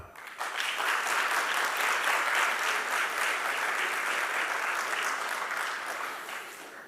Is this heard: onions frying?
no